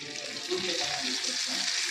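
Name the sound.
tempering spices and curry leaves sizzling in oil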